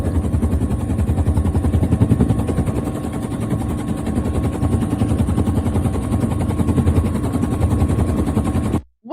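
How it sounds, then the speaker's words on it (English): A helicopter sound effect laid over footage: rapid, loud, evenly pulsing rotor chop that runs steadily close-up and then cuts off abruptly at the end. "they pretty much like just put the helicopter sound on top"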